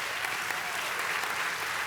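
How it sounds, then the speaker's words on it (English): Dense, even applause fills the hall at a summer nurse pinning ceremony, many hands clapping steadily for the whole short stretch without a lull. "I would like to give a round of applause for them if we can."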